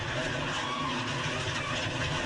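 A NASCAR stock car slides to a stop after a Daytona 500 crash, heard as a steady broadband roar of tire scrub and engine noise that holds level for the whole stretch without speech.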